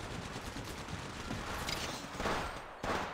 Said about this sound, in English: Under fire here.